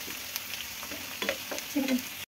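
Onions and green chilies frying in a pan, with curry leaves about to go in, give a steady close sizzle with a few brief stirring clicks, alone and without talk, ending in a sudden cut.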